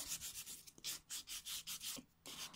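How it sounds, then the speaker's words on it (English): Rhythmic back-and-forth strokes of a Sunshine 180-grit nail buffing file rubbing across a fingernail, about a dozen soft raspy sanding passes close up, with no talking. "it's the Sunshine 180 buffing file. Very slightly buffing it."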